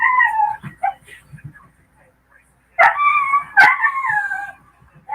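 Puppies whimper and yip in short bursts indoors, then break into two longer wavering howls close by, with gaps of quiet between.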